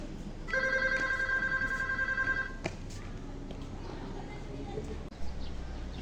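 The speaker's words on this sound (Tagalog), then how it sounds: "Maya-maya ay mayroong dumating na tawag sa telepono para kay Solomon." A telephone rings for an incoming call in a staged school drama performance, a steady electronic ring pulsing for about two seconds in a room with background murmur, then fading out.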